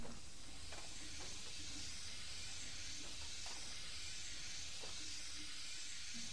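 Loud, continuous hiss of steam escaping from burst pipes near a boiler in the SAW video game, a constant roar with a few faint metallic knocks and clanks scattered through it.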